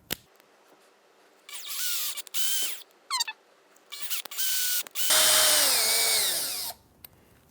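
A power drill bores screw holes in a chair pedal in several short bursts, whining up and winding down close by, ending with one longer, louder run before stopping.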